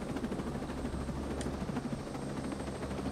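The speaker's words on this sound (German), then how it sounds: "Wahrscheinlich wird der Helikopter gleich weggesmackt." Helicopter in the video game Ghost Recon Breakpoint, a steady rumbling rotor thump and engine drone held loud and close throughout without pause.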